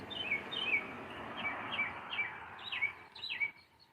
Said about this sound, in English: That bird is going off.